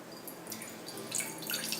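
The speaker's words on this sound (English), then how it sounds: "Cold water goes in." Cold water poured into onion ring batter in a bowl, a short soft splashing trickle lasting under two seconds, fairly faint and alone.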